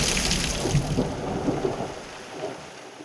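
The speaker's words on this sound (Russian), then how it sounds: "Так и пошел дождь." Steady rain falls alongside low rumbling thunder, a dense, continuous wash of sound that fades slightly toward the end, with nobody speaking.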